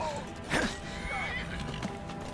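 A horse whinnies once in the video game Skyrim, a fairly close, rising-and-falling neigh over steady game ambience, with hoof clip-clops nearby.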